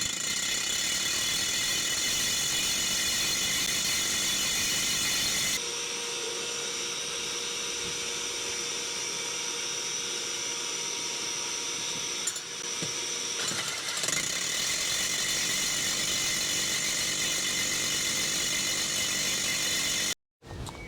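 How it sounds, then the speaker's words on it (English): Core drill boring into a wall with no dust extraction attached, a steady loud mechanical whine and grinding roar that holds for most of the stretch, with a brief change in tone partway through and a short cutout near the end. "started the core drill. By that we mean he's got a good bite in the wall."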